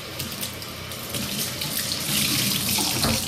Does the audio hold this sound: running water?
yes